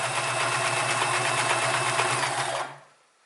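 A Sears Kenmore 158 sewing machine stitching through two layers of light marine vinyl, a steady, close, loud mechanical hum and clatter that runs continuously and then stops abruptly.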